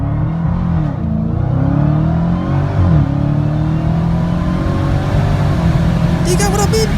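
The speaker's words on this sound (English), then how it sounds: "in Forza Horizon 5, it's like it just changes gears instantly" A Dodge Hellcat's engine in the video game Forza Horizon 5 revs loudly and steadily, pitch climbing and dropping sharply at instant gear changes, with a brief higher-pitched burst near the end.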